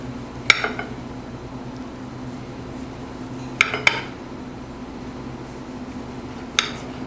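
Sharp metallic clinks of a knife meeting a plate while slicing rolled top round steak pinwheels in marinara sauce: three separate bursts, one early, a close double in the middle and one near the end, over a low steady kitchen hum.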